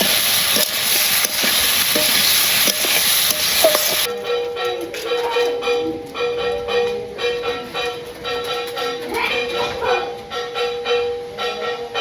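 Vegetables sautéing in a pan give a loud, steady sizzle for the first few seconds, then softer, irregular stirring and scraping noises with a tonal hum, all close and without talk.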